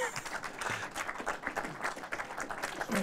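An audience at a German film event applauds continuously, a dense, even wash of many hands clapping throughout at moderate volume.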